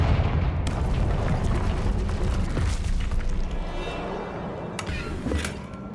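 A Confringo explosion spell blasts in Hogwarts Legacy, a loud, rumbling boom with crackling debris that fades slowly, followed by a couple of sharper bursts near the end.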